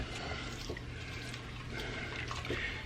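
Rice stirred into boiling cooking liquid for South Carolina chicken bog makes a faint, close watery slosh and bubbling over a low background hum.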